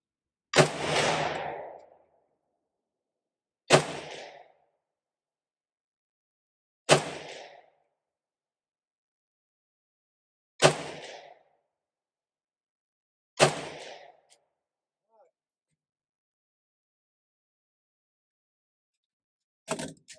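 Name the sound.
Dragunov SVD sniper rifle firing five rounds at 100 yards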